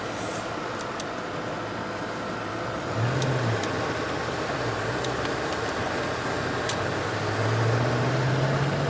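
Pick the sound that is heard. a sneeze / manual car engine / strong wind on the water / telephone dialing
manual car engine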